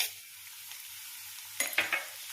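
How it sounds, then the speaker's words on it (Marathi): Onions fry in hot oil in a steady, faint sizzle with a soft low pulsing hum, then a couple of sharper stirring scrapes near the end. "आता आपण कांदा तळून घेऊया।"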